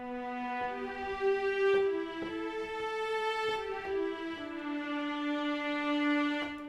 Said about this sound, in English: longs for the violas.